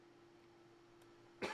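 A single short, close cough bursts out near the end after a quiet hum, from someone with a slight throat tickle.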